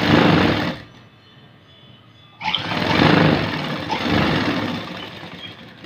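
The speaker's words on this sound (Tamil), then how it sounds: "மடித்து விட்டு இப்படி தைக்கிறோம்" A sewing machine stitches blouse fabric with a steady mechanical whir, running in two bursts separated by a brief pause, fairly close and loud with no talking.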